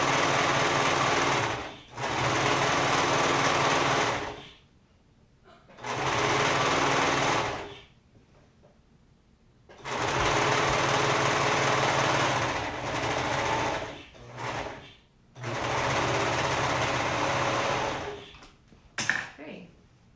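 A sewing machine stitching a dress runs in several sustained whirring bursts separated by pauses, close and loud, with brief handling noises in the gaps.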